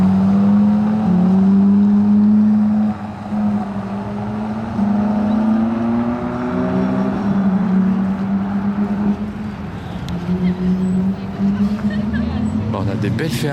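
A Ferrari 430 Scuderia pulls away at a car gathering with a loud, strained engine note that climbs and shifts pitch as it accelerates, dips, then rises again. A voice speaks over part of it.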